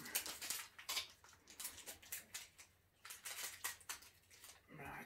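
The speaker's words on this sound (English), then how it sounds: "Scissors." Scissors snip and rustle through packaging as a holiday advent calendar door is opened indoors, producing a run of quiet, sharp clicks and crinkles with a short pause midway.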